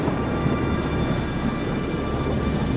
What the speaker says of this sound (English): Thunderstorms will roll through the area midweek.